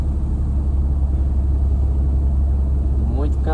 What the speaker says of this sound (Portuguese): Muito caminhão ainda fazendo entrega.